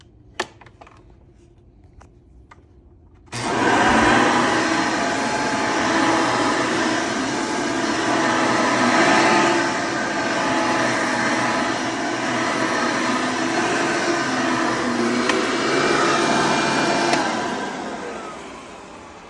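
A Hoover Elite upright vacuum cleaner fitted with a new replacement motor switches on after a few quiet seconds, then runs with a loud, steady whine and roar close by until it winds down near the end.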